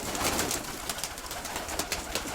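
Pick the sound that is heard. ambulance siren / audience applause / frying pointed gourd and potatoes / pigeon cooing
pigeon cooing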